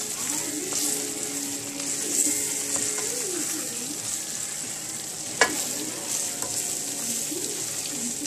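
Onions being stirred in a hot, darkening roux for Louisiana gumbo, a steady close sizzle and frying hiss with faint scraping of the spoon, plus one sharp clink partway through.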